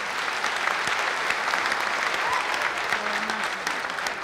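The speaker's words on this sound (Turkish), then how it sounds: "Bir büyük alkış daha rica ediyorum sizlerden" Sustained applause from a Turkish Popstar television talent show studio audience, an even, moderately loud wash of many hands clapping throughout with no voices on top.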